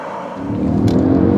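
A Mercedes ML 63 AMG with a 5.5-liter V8 pulls away under acceleration, its deep engine rumble rising steadily in pitch and loudness over a short burst, close and without talk.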